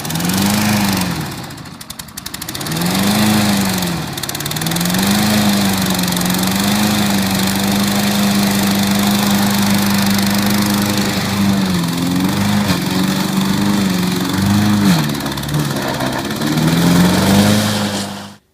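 A lawn mower engine runs steadily and loudly close by, its drone rising and falling slightly with load changes, briefly dipping near the start before holding a constant hum to the end.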